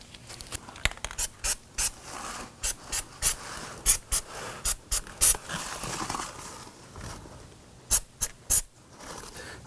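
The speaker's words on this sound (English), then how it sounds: "I'm going to go ahead and spray this with a little bit of anti-seize compound." Short hissing bursts of an anti-seize compound spray on rear parking brake parts of a 2005-2009 Subaru Legacy, about fifteen quick spritzes in an irregular rhythm, close and fairly loud.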